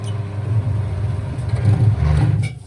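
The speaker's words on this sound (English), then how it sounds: "So I'm just spinning my wheel, and it's just cutting the tyre off of the rim." A tyre changer spins a Honda CBR 125 motorcycle wheel to cut the tyre off the rim, a loud steady low motor drone with grinding rumble, swelling slightly midway before cutting off abruptly near the end.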